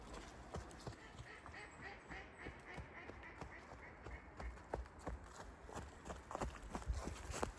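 Ducks at a park on a November morning quack repeatedly in uneven bursts, close by, mixed with footsteps crunching along a path.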